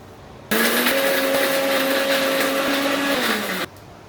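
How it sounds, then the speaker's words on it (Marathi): A mixer grinder grinding spice paste whirs loudly at a steady high pitch for about three seconds, starting and stopping abruptly, its tone dipping slightly near the end. "आता त्याच मिक्सरमध्ये हे जे आपलं वाटण आहे हे वाटून घेऊया थोडं थोडं करून"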